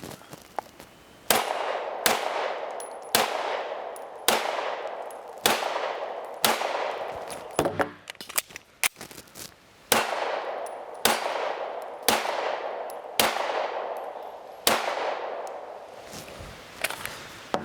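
Rapid pistol shots from a BRG 9 Elite at an outdoor range, about a dozen sharp loud cracks at roughly one-second intervals, each ringing briefly as rounds strike steel targets, with a short pause partway through for a reload.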